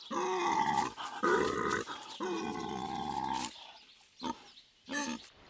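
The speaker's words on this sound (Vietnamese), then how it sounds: "Wild boar." A wild boar makes a series of loud, harsh, drawn-out grunting squeals up close, three long bursts followed by two shorter grunts with brief quiet gaps between.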